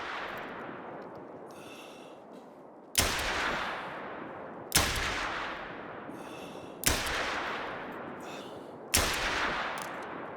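Four sharp, loud rifle shots fired with an Argus rifle in theHunter: Call of the Wild, evenly spaced about two seconds apart, each cracking hard and then rolling off into a long fading echo across open terrain.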